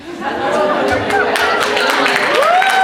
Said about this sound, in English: Oh, don't applaud that.